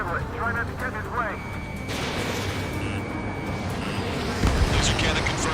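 A laser cannon is destroyed in the Ace Combat 7 flight game. A broad roaring rumble of explosion and jet noise runs throughout, swelling in a heavier blast near the end, with radio voices briefly at the start.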